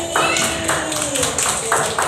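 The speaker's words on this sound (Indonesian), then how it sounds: "tepuk tangan untuk Mas Karim" Classroom clapping for a pupil during a lesson on vowels and consonants, a few rhythmic rounds of hand claps in short bursts, mixed with children's voices.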